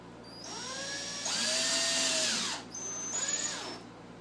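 A power drill drives a screw into a plastic plant tray, whining close and loud in three bursts: a short start, a longer sustained run in the middle, then a brief final spurt as the screw seats, with no voices.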